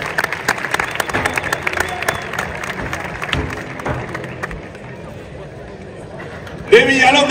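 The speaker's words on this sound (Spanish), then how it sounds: "¡Ese aplauso, Mayora!" Crowd applause at a bull-cutting contest in Mayorga, rapid clapping and cheering from spectators that thins out midway, with an announcer's voice breaking in at the end.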